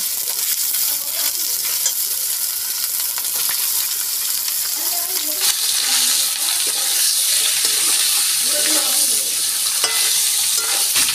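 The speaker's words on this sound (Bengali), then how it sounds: "এখন আমি মাংসটা দিয়ে দিচ্ছি।" Duck meat for a chui jhal curry fries in a pan with a loud, steady hiss and crackle close by, and no voices.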